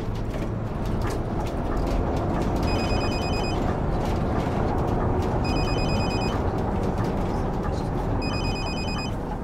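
A telephone rings in the bus-driving game The Bus, three short bursts of electronic ringing spaced evenly apart over constant engine and road drone, with someone talking underneath.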